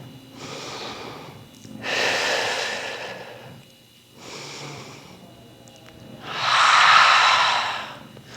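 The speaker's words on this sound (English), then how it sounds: "Let's take 3 more deep breaths." Four deep breaths during a cardio workout, slow inhales and exhales alternating in a steady rhythm, close and fairly loud, the last exhale strongest, with no talking.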